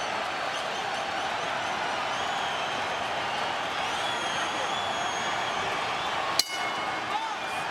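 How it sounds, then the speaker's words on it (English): Dense, steady roar of a boxing arena crowd at the Alamo Dome before a title unification fight, a broad wash of cheering with one sharp bang near the end and murmured voices blended in. "The sea of humanity here at the Alamo Dome erupting like a volcano"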